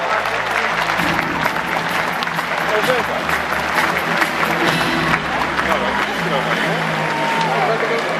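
Sustained crowd applause at a junior speedway team presentation for Falubaz Zielona Góra, steady dense clapping from a large audience filling the whole stretch, with a few voices mixed in underneath.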